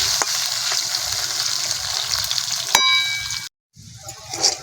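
Salted potato pieces frying in oil until reddish, a loud steady sizzle with a metal clang from the pan partway through, a short break, then more sizzling and stirring.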